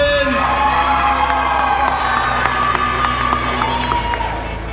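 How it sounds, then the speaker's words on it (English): A crowd cheers, whoops and claps as couples are introduced at an event, with excited shouts over music and a steady roar of applause. "And a nice round of applause for Mr."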